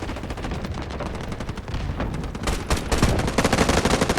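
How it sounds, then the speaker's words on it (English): Dense gunfire rattles in the Delta Force video game, with overlapping automatic bursts and single shots crowding together and growing louder and closer toward the end, with no talk over it. "Gunfire around me, but I'm not seeing anything on my minimap"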